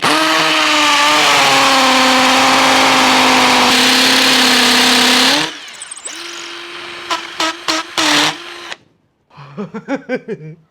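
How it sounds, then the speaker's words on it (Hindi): A budget cordless impact drill in hammer mode at full torque bores into a wall. A loud, steady motor whine lasts about five seconds, then breaks into a series of short, sharp bursts of whirring. "सबसे पहले मशीन फुल टॉर्क पे और उसके बाद हैमर मोड पे और सामने दीवार।"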